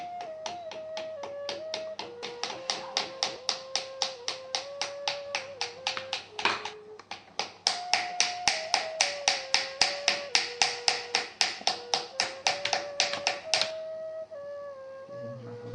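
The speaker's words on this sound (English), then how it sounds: "she then works on the interior seam and paddles the top of the teapot inward" Rhythmic tapping as a Yixing zisha clay teapot body is paddled inward by hand, steady runs of close, crisp pats with a brief pause midway, alone with no talk.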